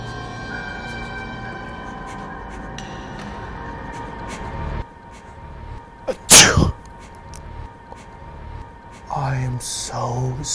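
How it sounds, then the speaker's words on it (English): A single sharp, loud sneeze bursts out partway through, set against a steady background hum, with brief talking afterward. "It's a sneeze."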